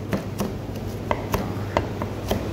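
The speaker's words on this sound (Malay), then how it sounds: "Kita potong-potong." A knife chops crushed garlic on a board in a home kitchen, giving about a dozen crisp, uneven taps close by, spaced loosely over a faint steady background hum.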